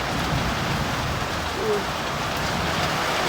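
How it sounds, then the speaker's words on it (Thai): Rain falls steadily in a dense, even patter, a continuous hiss that stays moderately loud throughout, with no one talking. "มื่อนี้ฝนตก"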